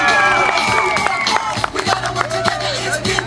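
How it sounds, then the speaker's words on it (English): At an air show, a crowd cheers and claps amid loud music and an announcer's voice, the applause scattered and partly buried under the mix. "definitely appreciate your loud rounds of applause and natural energy out there"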